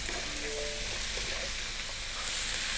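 Ingredients seasoned with salt and black pepper are stir-fried over high heat in a steady, close sizzle. A brief faint tone sounds early on, then the frying grows slightly louder toward the end, with no talk.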